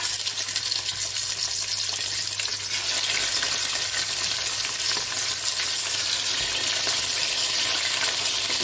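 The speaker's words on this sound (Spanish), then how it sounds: "vamos a empezar a freír las carrilleras" Pork cheeks frying in a pan, a loud, dense, continuous sizzle with crackling spatter that holds steady throughout, no voices.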